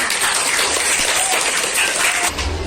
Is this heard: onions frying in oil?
no